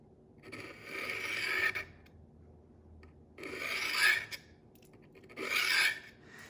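A dull knife is drawn across a Work Sharp Angle Set sharpener in three separate raspy scraping strokes, each lasting about a second or more, with quiet pauses between them, close up and with no voices.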